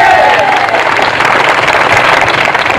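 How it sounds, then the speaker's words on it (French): A crowd at a windsurfing awards ceremony in Nouméa claps and cheers steadily, with the dense applause holding at a strong level throughout. "Allez, tout le monde applaudit en même temps là"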